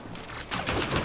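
Rapid gunfire in the video game Mass Effect Andromeda, a dense, loud burst of overlapping shots that swells in the second half with no speech over it.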